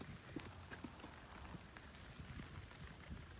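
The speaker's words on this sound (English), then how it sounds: "And that's why it's raining." Rain falls outdoors in Weymouth, a faint, steady patter of drops tapping on surfaces with scattered louder hits, continuous and fairly close.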